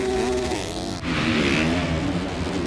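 500 two-stroke motocross motorcycle revving at a Red Bull Straight Rhythm race, a rising and falling engine whine with a brief dip midway before the revs climb again.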